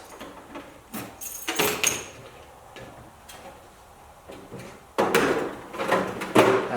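Lock and drawers of a Kennedy machinist tool box being worked: a series of close clicks and metallic slides, with a louder burst of sliding and rattling near the end.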